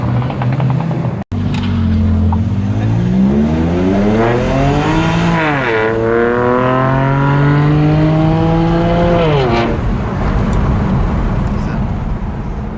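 Race cars roaring past on a track, engine pitch climbing and sweeping down as they pass close and loud, a continuous drone filling the whole stretch.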